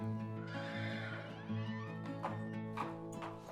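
A horse whinnies in a long, wavering call at a secluded ranch southeast of Colorado Springs, fairly faint, with a steady tonal drone underneath.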